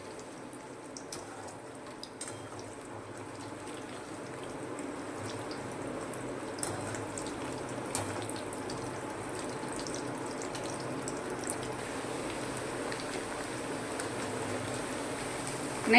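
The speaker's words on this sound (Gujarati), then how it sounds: "બ્રાઉન કલરના તળી લેવાના છે નહીં" Whole baby potatoes frying in hot oil until brown for a cauliflower curry, a continuous rain-like crackling sizzle that holds steady and close throughout, with no voices over it.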